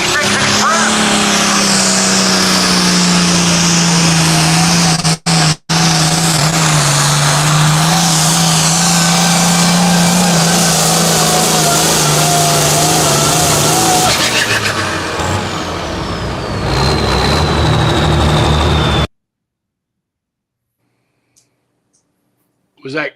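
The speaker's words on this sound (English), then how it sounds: "Pulling their Papa John's old tractor, doing a good job too." An old tractor roars under heavy load at a tractor pull, its engine droning loud and steady for most of the run before cutting out abruptly, leaving near silence.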